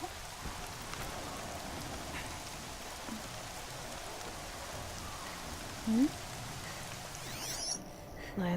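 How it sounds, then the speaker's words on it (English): Rain falls in Horizon Zero Dawn as a soft, steady background hiss, fairly faint, with a few small game sounds popping up near the end. "I don't like rain. In this game, it makes things so much harder to see."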